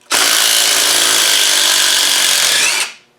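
An air impact gun spins off a Loctited bolt on an LT230 transfer box, a loud steady whirring burst lasting nearly three seconds, close by and alone, stopping abruptly.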